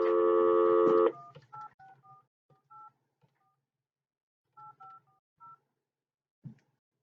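A telephone number is dialed with a rapid run of DTMF keypad tones, followed by a series of short, evenly spaced electronic beeps in a quiet room, ending in a soft click.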